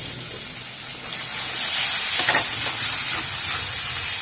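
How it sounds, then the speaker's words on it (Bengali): Chopped onion hits hot oil with tempered spices for a Bengali fish curry, giving a steady, loud sizzling hiss with a brief stronger flare midway and some stirring, no voices present. "একটা বড় সাইজের পেঁয়াজকে কুচিয়ে রেখেছিলাম সেই পেঁয়াজটা আমি ওর মধ্যে দিয়ে দিলাম"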